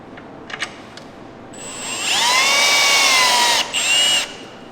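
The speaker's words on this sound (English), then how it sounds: "We have a special power tool for this, which has electric torque meter" A few faint clicks come first, then a power tool whirs loudly for about two seconds, pauses briefly and spins up once more before stopping.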